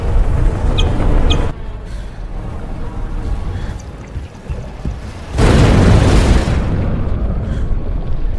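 A film explosion erupts as a sudden loud, broadband blast and rumbles on for several seconds. It follows quieter, rumbling action noise.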